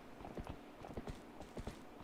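Horse hooves clip-clop at a steady trotting rhythm in The Legend of Zelda: Twilight Princess HD, the hoofbeats close, crisp and moderately loud with no voices over them.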